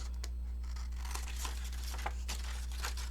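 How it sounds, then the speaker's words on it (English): Paper snips cutting through patterned paper for a fold-flat gift bag, a quiet run of short crisp snips and crinkles at an uneven pace over a low steady hum, with no talking. "get your paper snips, and you're going to cut this bottom portion out"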